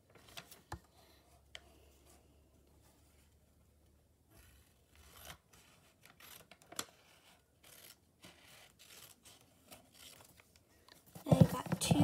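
Scissors cut a sheet of paper in half with scattered snips and crinkles that build to a louder burst of cutting at the end, all close by and with no talk.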